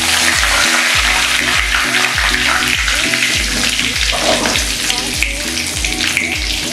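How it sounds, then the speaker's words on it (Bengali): Black cumin and a bay leaf tempering in hot oil on a low flame, a loud dense sizzle with repeated scraping stirs in a regular rhythm, no talking. "1/4 চা চামচ কালো জিরে আর 1টা তেজপাতা ফোড়ন দিলাম।"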